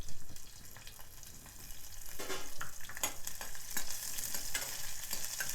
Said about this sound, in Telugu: ఉల్లిగడ్డ కూడా కొంచెం వేగనివ్వాలి.